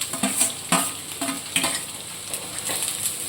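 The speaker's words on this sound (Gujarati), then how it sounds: "હવે આપણે કોબીજ નાખીશું" Shredded cabbage is stirred into onions frying in a pan for Dhaba-style hakka noodles, giving a steady sizzle broken by several sharp scraping stirs and clinks.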